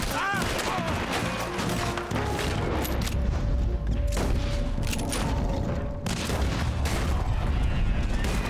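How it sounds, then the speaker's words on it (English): A heavy gunfight in Red Dead Redemption 2 rattles with dense, rapid gunshots and booming impacts, loud and nearly continuous, while someone speaks over parts of the chaos. "You arrived in the middle of a pretty epic shootout."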